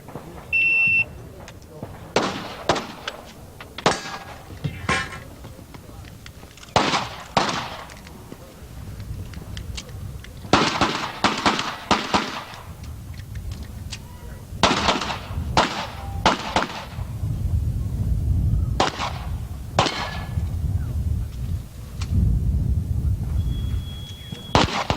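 Sharp pistol shots crack in quick bursts and pairs during a USPSA national championship practical shooting stage, with pauses between strings and a voice talking over the low background.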